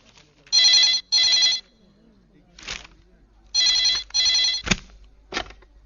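A telephone rings in two pairs of short electronic trills, with brief quiet gaps and some faint sounds between them.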